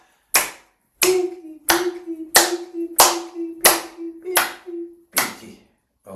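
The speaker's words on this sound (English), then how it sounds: "You can clap your hands," Hands clapping during a guided yoga practice: seven sharp, evenly spaced claps close by, each ringing briefly over a faint steady hum, with no talk between them.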